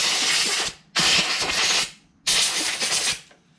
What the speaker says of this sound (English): I'll just blow it off with compressed air